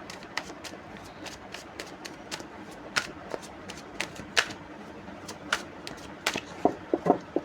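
Tarot cards being shuffled by hand, a faint, close series of quick papery flicks and taps in an irregular rhythm, with a brief flurry near the end.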